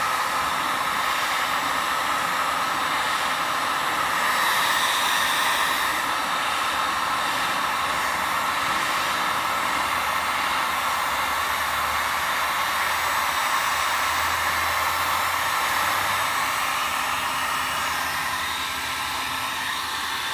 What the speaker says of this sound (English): Then you're going to go ahead and hit it with the heat gun.